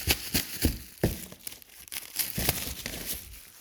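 Plastic hardware bags from a Kolpin snowplow kit for a Sportsman 450 HO being torn open, giving close crinkling and ripping bursts in a quick irregular rhythm.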